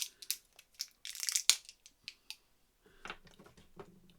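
Cellophane wrapper crinkling and crackling as it is handled, in close, sharp bursts of rustle, with a dense flurry in the middle, then a softer rattle toward the end.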